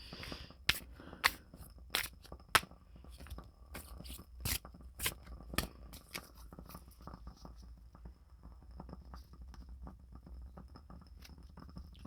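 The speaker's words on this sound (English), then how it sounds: "These cards shuffle really well too." Crisp riffling and snapping of tarot cards in quick bursts, close up, with softer shuffling clicks continuing quietly afterward.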